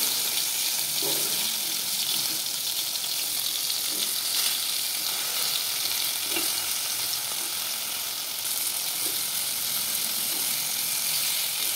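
Tomatoes fry in a pan with a steady, even sizzle that stays soft and constant, with occasional light scraping or stirring taps and no voices.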